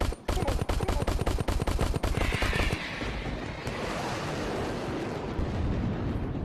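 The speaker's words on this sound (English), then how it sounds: "you can shoot his projectile in the air to avoid being enwebbed" Rapid gunfire blasts from the Crashland VR shooter game, a fast loud string of evenly spaced shots for about two and a half seconds that gives way to a rushing, rumbling roar and fading noise.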